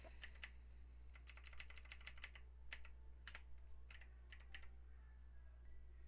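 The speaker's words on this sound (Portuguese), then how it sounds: "meu teclado ele está duplicando aqui algumas letras" Typing on a computer keyboard whose keys are duplicating some letters, heard as bursts of close, crisp clicks in irregular runs over a steady low hum, with no talking.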